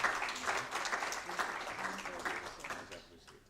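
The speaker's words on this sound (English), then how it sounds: "ladies and gentlemen, please a round of applause for Prof Sarombe" Festival audience at a university event gives a spell of moderate clapping that gradually thins and fades out over a few seconds, heard at a distance.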